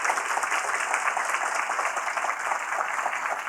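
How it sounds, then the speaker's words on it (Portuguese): An audience claps steadily at a racial equity event, a continuous wash of applause at moderate loudness with no voices on top. "eu queria pedir a vocês uma salva de palmas para esse cara que idealizou isso."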